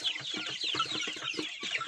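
Young chickens of different breeds cluck and chirp in a dense, close chorus of overlapping short calls.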